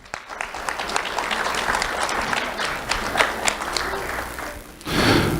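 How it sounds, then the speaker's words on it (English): Sustained applause for Vivian at an awards ceremony, a dense even wash of clapping from a seated audience that runs steadily, then swells louder in the final moment. "Round of applause for Vivian."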